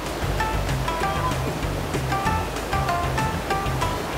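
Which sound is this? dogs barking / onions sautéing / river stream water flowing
river stream water flowing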